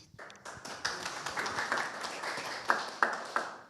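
Audience applauding a jury member introduced at a business school final pitch event, a steady patter of many hands with a few louder, sharper claps near the end.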